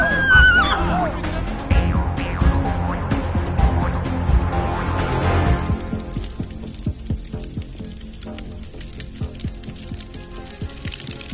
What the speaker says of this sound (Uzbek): qoraboyir otlar ota bobomizdan qolgan otlarda